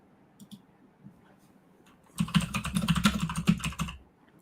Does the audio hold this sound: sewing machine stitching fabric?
no